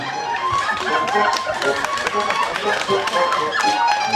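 Audience applause at a Ukrainian festive event run by a toastmaster, a dense, continuous patter of clapping from a crowd with a voice speaking over it.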